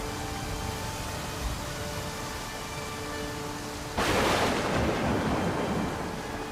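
Heavy rain pours during a village storm as a steady wash of noise, with faint tonal sounds underneath. The rain surges louder partway through, with a rumbling swell that suggests thunder.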